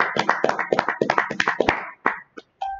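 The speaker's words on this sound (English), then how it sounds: "Clap it up, everybody." A small group claps at a live class meeting in Minneapolis: a brief burst of close, sharp hand claps with an uneven rhythm that thins out after about two seconds, with a few stray claps at the end.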